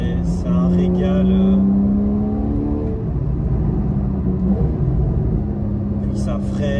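A Porsche flat-six with a PDK gearbox revs on a small country road, a loud close engine drone with rising and falling pitch across gear changes. Talk runs over it.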